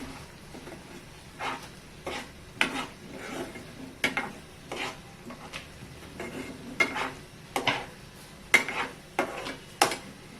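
Chole masala with chopped coriander stirred in a pan, a spoon scraping and clinking against the metal in irregular bursts, moderately close with no talking.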